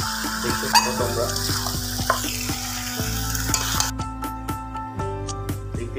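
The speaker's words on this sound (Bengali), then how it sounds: "দেখতেই পাচ্ছ মাংসটা কষানো হয়ে গেছে আমার" Mutton sizzles and is stirred in a hot pan while being sautéed, a dense continuous frying hiss with regular scraping strokes of a spatula, close and loud.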